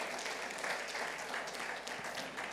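Audience applause at a formal product launch event, a steady wash of clapping from a crowd that holds evenly for a couple of seconds without voices.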